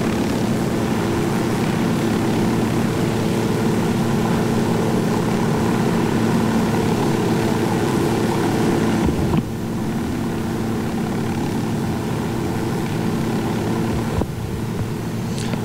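A helicopter in Ghost Recon Wildlands drones with a steady rotor and engine hum that holds loud and constant throughout, briefly disturbed by two short thumps partway through.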